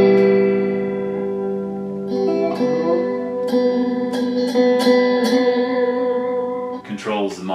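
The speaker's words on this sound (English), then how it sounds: "You can hear that flange kind of circling up and down" Guitar notes run through the flange setting of an Electro Harmonix Cathedral reverb pedal, a sustained tone with several plucked notes layered on top and a sweeping, swirling shimmer, loud and without talk.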